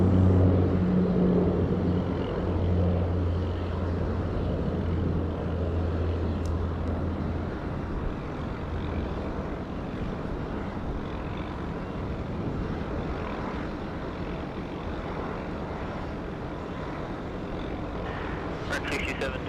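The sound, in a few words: Boeing 787-9 airliner taxiing at Sydney Airport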